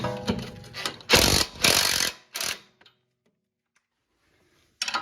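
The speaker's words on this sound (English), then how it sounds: "Now we can crack the nut loose using an impact gun and a 17mm socket." An impact gun with a 17mm socket cracks loose a nut during front shock absorber removal on a 2007-2012 Acura RDX, giving several loud, close rattling bursts in quick succession before falling silent, then one brief final burst.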